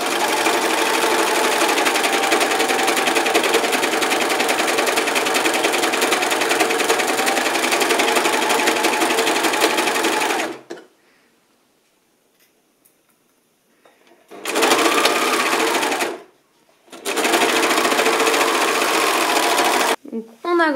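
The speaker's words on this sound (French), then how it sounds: "Donc pour l'assemblage de la manche, on surjette." An overlocker serger stitches a fabric sleeve seam, whirring loudly and continuously for about ten seconds, then falling silent before two shorter runs.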